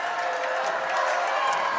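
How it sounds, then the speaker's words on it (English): Basketball crowd in a high school gym loudly jeering and shouting at a free throw shooter, a dense, steady roar of many voices with whistles and yells rising through it. "shooting into that Alexander Spartans crowd. They're really letting him have it"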